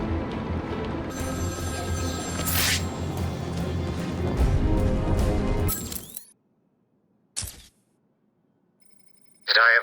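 A telephone rings on a city street in Batman: Arkham City, a loud, dense burst over busy background sound, followed by near silence and a couple of brief sharp ring tones.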